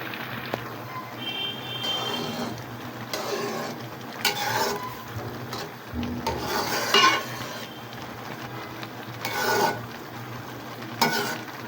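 Tomatoes cooking in four to five spoons of cooking oil for dal, a soft sizzle under repeated spoon scrapes and clinks against the pot, close and moderately loud with no talking.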